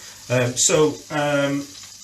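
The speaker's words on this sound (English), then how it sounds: "We've got that frying there." Steady sizzling of food frying in butter in a pan, running continuously beneath a person talking close by.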